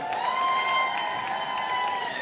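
Applause and cheering from an audience at IKAR's 20th-anniversary party for Michelle Rosenthal, a steady wash of clapping with a faint tonal hum behind it, continuing evenly for the whole stretch.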